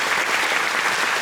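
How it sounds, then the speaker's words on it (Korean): Audience applause fills a film festival hall as guests are welcomed for a screening talk, a dense, steady clapping from a large crowd throughout. "큰 박수로 환영해 주셔서 감사합니다."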